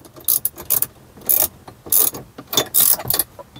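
A 10mm ratchet tightens the bolts of a screen swivel mount in a Tesla Model 3 / Y, giving a series of short, close, crisp clicking bursts in an irregular rhythm.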